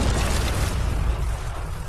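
Cartoon explosion happening off-screen, a dense, loud rumbling burst of noise that fills the short moment and fades slightly toward the end, with no voices over it.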